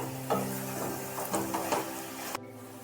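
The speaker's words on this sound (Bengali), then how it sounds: "ভালোভাবে একটু নাড়িয়ে চাড়িয়ে নিতে হবে।" A pan of Bengali radish curry (mulor ghonto) being stirred, with a spoon scraping and knocking in a steady rhythm over a constant sizzle and a background hum. No voices are heard, and the sound stops abruptly near the end.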